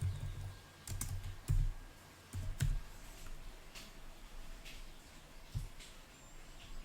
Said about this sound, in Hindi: इस जगह पे हम निफ्टी बैंक को टाइप कर लेते हैं